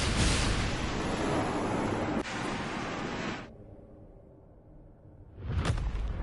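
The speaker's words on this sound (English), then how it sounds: "What caused the explosion?" A loud, sustained explosion in the video game Wuthering Waves, a dense roaring blast that holds for about three seconds, drops to a low rumbling tail and then swells again near the end.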